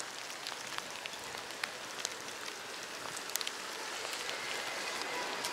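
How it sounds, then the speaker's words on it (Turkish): Rain growing heavier along the Marmaris seafront in Turkey, a steady broadband hiss of falling drops with scattered sharper drop ticks, building slightly toward the end. "Yağmur şiddetini arttırmaya başladı."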